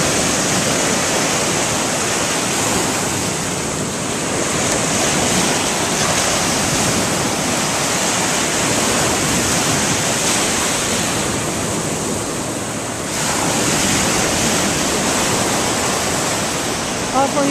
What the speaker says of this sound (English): here comes a big wave and it's going to whack him